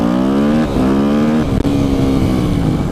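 A Yamaha YZF 250 dirt bike revs hard during a wheelie, its engine note rising in steady climbs with a short dip near the middle. The engine stays loud and close throughout, with no voices.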